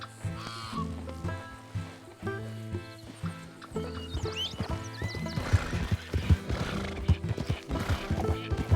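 In Red Dead Redemption 2, a donkey brays and whinnies loudly in repeated calls as hooves clip-clop in an uneven rhythm close by, the stepping growing busier toward the end.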